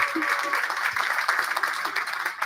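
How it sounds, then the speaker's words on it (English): Audience applause for guests at a politics in the pub event, a brief burst of dense clapping with a few sharper claps over the top. "another round of applause for fantastic guests"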